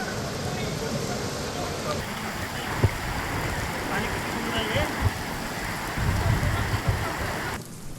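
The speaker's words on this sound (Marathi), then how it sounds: "इगतपुरीमध्ये मुसळधार पाऊस बरसलाय" Heavy downpour at Igatpuri, a dense, steady roar of rain drumming on surfaces, continuous and close, with a few louder splashes and a slight swell near the end.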